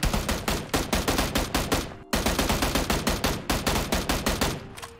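A new gun in PUBG fires fast, loud, close automatic bursts of sharp shots, with one brief pause before the rapid stream resumes.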